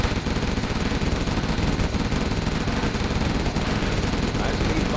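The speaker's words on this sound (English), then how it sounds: "Gatling cannon will be ready soon." Rapid gatling cannon fire from a China tank general's units in Command & Conquer Generals Zero Hour, a dense continuous stream of loud mechanical gunfire running throughout with battle noise layered beneath.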